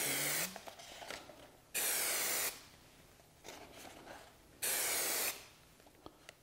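Three loud bursts of hissing spray adhesive onto the inside of a model rocket thrust mount tube, each about a second long, separated by quieter stretches with faint handling noise.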